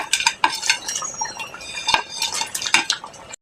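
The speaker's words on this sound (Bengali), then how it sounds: "এখন আমি মাছের মাথাগুলোকে দিয়ে দেবো" Fish heads dropped and stirred into thick, boiling mashkolai lentil dal in a metal pot, with repeated clattering utensil scrapes and knocks in an irregular rhythm, close and fairly loud, no voices.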